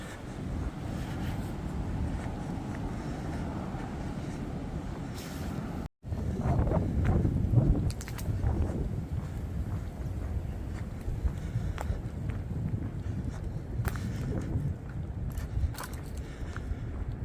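Steady, cold late-March wind buffeting outdoors on a hiking trail at Swatara State Park, a low rumbling roar that persists throughout with a brief dropout partway and occasional gusty swells.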